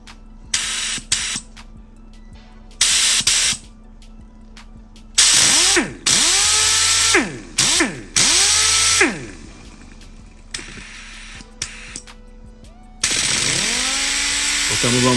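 An air polisher on a small compressor buffs a car hood in intermittent bursts, its motor whining up to speed and trailing off between runs, with hissy air noise and quieter gaps between.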